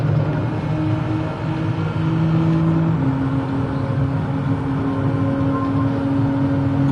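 A 155 race car engine from a racing video game drones steadily and loudly at high revs, pitch climbing in a sustained whine with a gear shift partway through.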